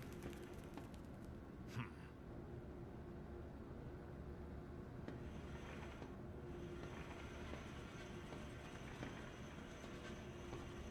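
A train in the zoo horror video game Zoochosis, a continuous rumbling roll with faint rattling and a brief clank early on, steady and mid-distance with no talk.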